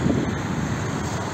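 Outdoor wind blusters against the microphone on a walk through Szekesfehervar, a constant low rushing roar with no talking.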